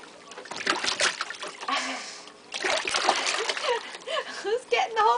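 A child splashes water in a bubble-filled bathtub, with irregular bursts of splashing mixed in among cheerful voices talking close by.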